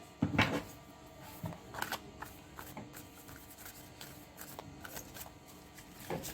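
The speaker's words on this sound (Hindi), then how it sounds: "तो चलिए मैं कार्ड शफल करके रख देती हूँ आप सभी के लिए" Tarot cards being shuffled by hand, heard as quiet, close, irregular riffles and soft slaps with a sharper burst near the start.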